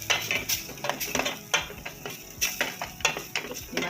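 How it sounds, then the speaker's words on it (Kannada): Chilli, coriander, garam masala and turmeric powders being stirred and fried in a pan, with repeated scraping and clinking of a spoon against the metal in an uneven rhythm and a faint sizzle underneath. "ಈ ಮಸಾಲೆ ಎಲ್ಲ ಹಾಕ್ಕೊಂಡು ಮತ್ತೆ ಫ್ರೈ ಮಾಡ್ಕೋಬೇಕು."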